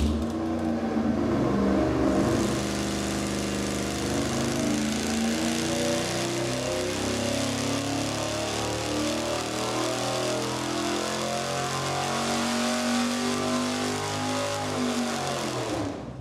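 A V8 engine with an old-school dual four-barrel intake, tunnel ram or cross ram, runs on a dyno. It roars loud and sustained for the whole stretch, with a rising pull near the start and a steady drone through the rest.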